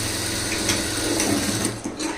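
A sewing machine stitches the shoulder join of a lined blouse with a half-inch allowance, running at a fast, continuous pace, loud and close, with no pauses.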